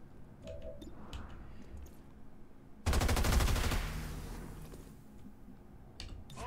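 Gunfire in the XCOM 2 video game: a sudden, loud burst of rapid automatic shots lasting about a second, with a rumbling tail that fades against quieter ambient game sounds.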